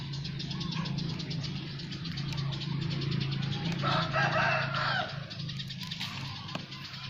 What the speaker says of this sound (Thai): เช้านี้ก็จะมีเสียงไก่เสียงนก บ้างค่ะ